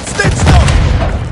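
A stun grenade goes off in Call of Duty: Modern Warfare 3, a loud, dense blast that fills the whole moment with rumbling low energy and crackling debris amid the battle din.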